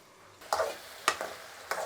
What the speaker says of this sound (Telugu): దీన్ని మధ్యలో కలుపుకుందాము.